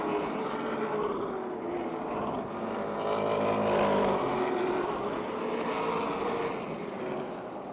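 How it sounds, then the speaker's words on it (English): Race cars lapping Motordrome Speedway in a 2009 event, a steady roar of engines swelling as the pack passes nearby around the three-to-four second mark and then easing, with no talk. "it's Mark Catone leading Neil Brown. Sean Pilla in third, leaders on the back straight"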